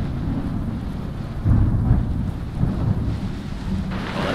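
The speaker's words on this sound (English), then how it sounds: "Oh, that's a nasty storm." A thunderstorm in the Smalland survival video game: steady heavy rain with deep rolling thunder rumbles swelling and fading, with no voices over it.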